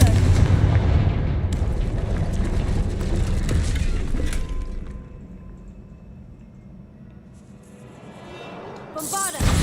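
Fire spell blasts from the Hogwarts Legacy video game, a dense roaring burst of crackling, mechanical-sounding fire lasting several seconds, fading to a low rumble before a sharp bright crack at the end.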